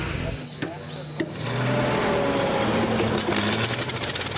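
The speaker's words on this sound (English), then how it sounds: "An old model Singer never sounded so smooth." An old Singer sewing machine whirs up and settles into a rapid, even mechanical clatter, with a person speaking over it.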